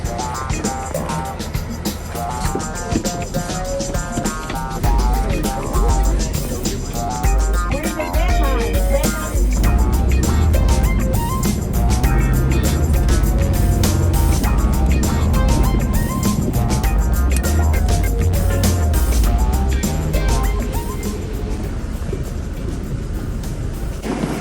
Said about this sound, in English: we're about to board the buses